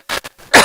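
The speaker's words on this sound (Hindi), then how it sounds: "साथ के साथ मैं खांस पी रहा हूं" A man coughs and clears his throat in a short burst, a few close, rough hacks ending in a louder, harsher cough.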